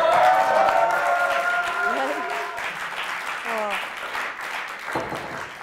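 Studio audience applause at a German comedy show, a dense wash of clapping that fades gradually over several seconds, with voices talking through it.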